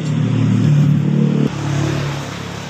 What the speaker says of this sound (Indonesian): kita engkol dan coba kita hidupkan apakah motor ini bisa hidup atau tidak.